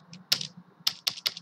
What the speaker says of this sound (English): so I'm typing quit.